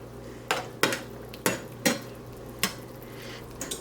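Drained, rinsed, crushed capers stirred in a pan, a spoon clinking against the metal in about half a dozen sharp knocks over a faint steady background hum, with no talking.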